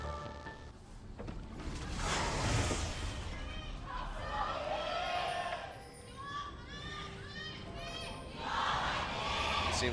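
A live esports crowd at a 2017 LCK League of Legends match, ROX Tigers versus SKT, cheering and shouting in rising and falling waves, with a caster's voice talking over the noise.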